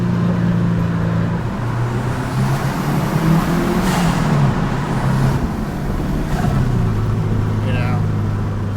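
A car engine climbs steadily under an acceleration pull, its droning note rising and shifting through the run from inside the cabin, with road noise throughout.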